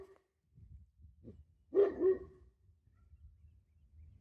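A large guard dog on a farm gives a single short bark, a gruff double-pulsed woof at moderate distance, preceded by faint rustling and followed by quiet background noise.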